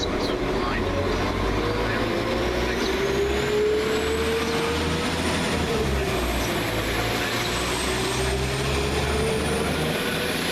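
A Northern Rail Class 195 diesel multiple unit, 195117, pulls away from a platform at Newton-le-Willows with a steady engine drone and rising whine that is loud and close, while a voice speaks over it.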